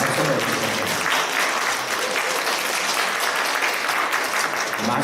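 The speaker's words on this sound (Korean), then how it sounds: "박수 한번 주세요" A church congregation at a Sunday worship service applauds, a dense, steady wash of many hands clapping at even loudness from start to finish, with no talking over it.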